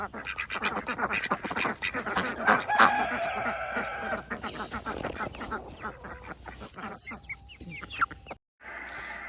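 A busy flock of chickens and ducks, with clucking, quacking and a rooster's crow mixed together close by, steady and lively throughout.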